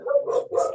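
Dog in a house in India barking, a short burst of two or three close, loud woofs with no talk over them.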